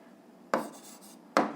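Two short scratchy bursts of a pen writing a physics solution by hand on paper, each stroke a brief close rasp separated by quiet.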